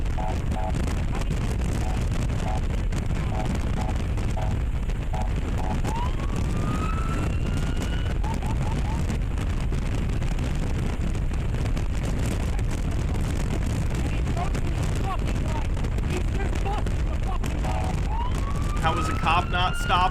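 Police car siren wailing and yelping continuously over loud road and engine noise, close and sustained, with tone sweeps rising and falling throughout.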